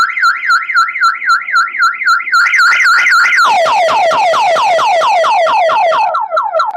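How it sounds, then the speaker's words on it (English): A loud electronic panic alarm from an electric fence energizer wails in fast repeating up-and-down sweeps, then switches to a quicker warbling pattern, close and continuous without any talking. "Alexa, turn on the energizer alarm."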